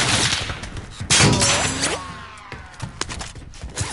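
Gunfire in a Call of Duty Warzone match, loud bursts of shots cracking over a noisy backdrop, with a voice briefly heard and scattered sharp reports trailing off.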